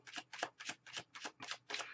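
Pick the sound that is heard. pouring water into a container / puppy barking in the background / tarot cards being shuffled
tarot cards being shuffled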